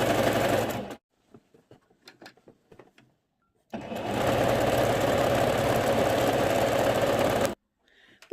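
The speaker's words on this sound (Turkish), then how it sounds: "Şimdi makineye geçiyorum. Güpürümü alttan ve üstten iki taraflı dikeceğim. Uç kısımdan dikiyorum." Lace trim is stitched onto a pillowcase on a sewing machine: a loud, steady whir of needle strokes, a pause filled with faint clicks and handling noises, then a longer continuous run before it stops abruptly.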